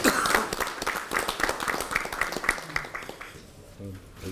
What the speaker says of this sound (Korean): 큰 박수 보내주시겠습니다.